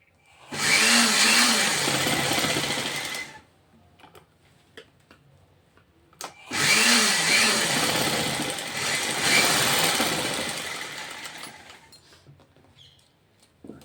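A sewing machine stitches blouse pieces in two long bursts of steady, close mechanical whirring, separated by a few seconds of near quiet with faint handling clicks.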